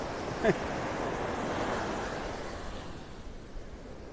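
Small waves wash onto the sand at a North Naples, Florida beach, a soft continuous surf hiss swelling gently, with a brief faint tonal chirp near the start.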